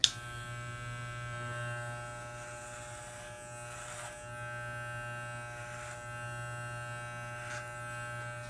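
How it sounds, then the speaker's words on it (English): Electric hair clippers buzz steadily while cutting hair over a comb during a men's undercut, a close, constant mains-like hum with brief rustly passes of the blade through hair, no speech. "I'm just going to do the clipper over my comb."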